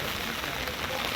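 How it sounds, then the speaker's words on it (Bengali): Steady rain pours down over an open village market in a storm, a dense continuous wash of drops lasting the whole moment, with no voices. "সারাদিন ধরেই বৃষ্টি।"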